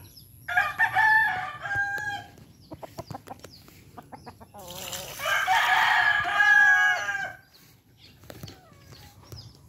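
Young roosters in open-air pens crow loudly and repeatedly up close, with harmonic calls in two long bursts and scattered clucks between them over a low background hum.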